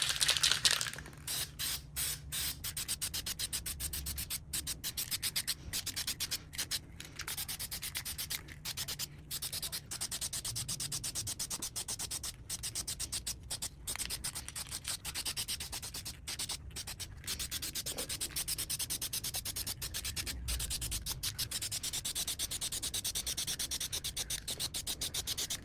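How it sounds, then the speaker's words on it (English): Aerosol spray paint hisses onto Nissan 300ZX Z32 brake calipers in steady close bursts, each broad hiss cut by brief pauses as the nozzle is released and pressed again. "Now I'm gonna spray paint the tops."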